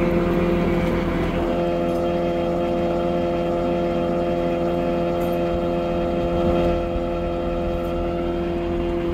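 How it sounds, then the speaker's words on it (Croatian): A Zetor tractor pulls a loaded corn silage trailer up a steep slope, its engine droning close and loud in a steady, strained hum that holds without a break. "Prikolica je pomalo kritična u ovoj strani, čak i traktor, ali evo, nekako uspijevaju."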